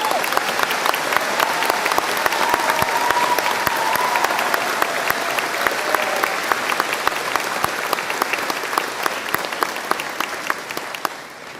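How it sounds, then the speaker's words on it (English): Sustained applause from a convocation ceremony audience at Trent University, dense steady clapping filling the hall for over ten seconds before easing slightly at the end. "so let's give them a big round of applause."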